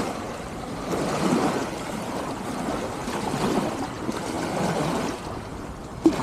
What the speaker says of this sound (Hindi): तो ये है समंदर